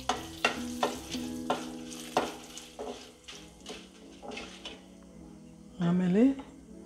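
Byadagi chilies frying with coriander seeds in a pan, a steady sizzle broken by repeated sharp scraping stirs, ending in a brief louder hiss and clatter; no one speaks.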